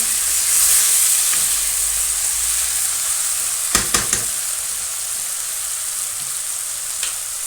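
An onion-skin vegetable dish sizzles in a pan, a loud steady frying hiss with a few sharp clatters of stirring partway through and no voices.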